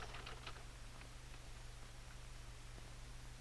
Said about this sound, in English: suppose, instead of typing this line correctly, as I'm doing, suppose I had made a mistake